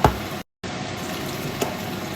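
Bite-sized pieces of skinless chicken sizzle steadily in a frying pan for a chicken pastilla, a broad crackling hiss near and fairly loud, cut by a brief silent gap early on.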